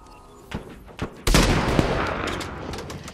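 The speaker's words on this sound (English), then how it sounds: "Scottish sniper Margaret Skinnider fires at British forces advancing" Rifle gunfire in a 1916 Easter Rising audio drama at the College of Surgeons: a few sharp isolated shots, then a loud sustained volley of fire with further cracks over a busy background.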